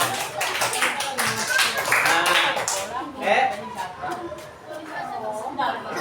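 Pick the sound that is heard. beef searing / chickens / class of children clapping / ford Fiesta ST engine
class of children clapping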